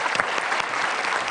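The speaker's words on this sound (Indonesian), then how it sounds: "Terima kasih, tepuk tangan dulu dong." Studio audience applause at a talk show, a brief continuous burst of many hands clapping at steady loudness.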